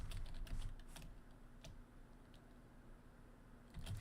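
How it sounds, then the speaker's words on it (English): Keyboard-style typing clicks used as a sound effect for text appearing on screen, a quick irregular run of light taps near the start and again at the end, fairly quiet with a faint low hum underneath. "the typing sound effect"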